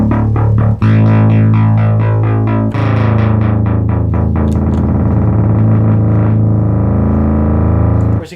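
Restored Moog Minimoog synthesizer with noise mixed into LFO modulation: a loud, sustained buzzy tone with rapid warbling, sweeping pitch motion that shifts texture midway and carries on steadily without any voice.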